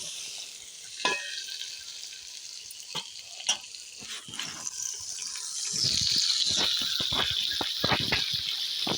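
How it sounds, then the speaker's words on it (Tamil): Onions and tomatoes sautéing in a pan for fish curry, a soft sizzle punctuated by clinks and stirring scrapes, swelling into a louder, steadier hiss partway through. "வெங்காயம் நல்லா வதங்கிடுச்சு இப்போ தக்காளி சேர்த்துப்போம்"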